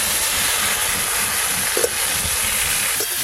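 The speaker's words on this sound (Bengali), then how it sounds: "ঠিক মাছ ভাজার মতোই আলু পটলও হালকা করে ভাজবো।" Potato and pointed gourd pieces lightly frying in hot oil in a home kitchen, a loud continuous sizzle with one or two brief clinks of utensils, no voices.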